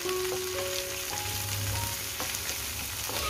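Crushed garlic and finely chopped onion sauté in a pan, producing a soft, even sizzle that holds steady without pause and carries no voices.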